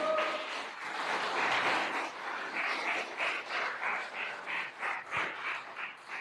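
A church congregation at a Spanish-language service applauds, a soft, steady patter of many hands that settles into a gently pulsing rhythm, heard from a distance and fairly faint.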